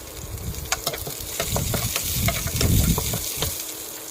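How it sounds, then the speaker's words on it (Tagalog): Garlic and chopped onion sauté in hot oil for a tomato-braised shrimp dish, with a steady close sizzle and scraping stirs through the whole stretch and no talking. "Mix ang sibuyas."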